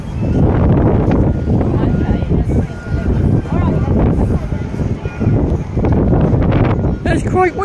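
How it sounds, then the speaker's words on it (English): Strong wind at the Bournemouth seafront buffets the microphone in a steady, loud roar with low rumbling gusts, a brief higher chirp near the end. "It's quite windy here."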